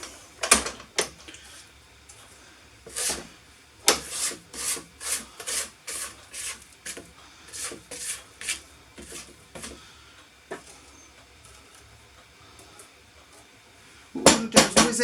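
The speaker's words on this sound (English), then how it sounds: "So we're going to scrape it down." A spatula scrapes down a mixing bowl of chocolate sponge batter, giving a series of short rhythmic scraping strokes, close and moderately loud, with a burst of louder rubbing at the end.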